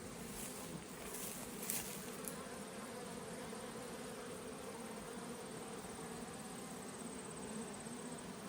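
Honeybees buzz around mating nuc hives outdoors in a steady, continuous drone, with a few louder passes as individual bees fly close by.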